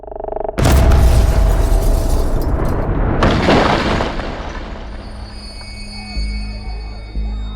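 Bomb explosion inside a bar: a sudden massive boom erupts after a brief quiet start, followed by long rumbling debris and crackling decay, then a high ringing tone lingers over a low drone as the blast fades.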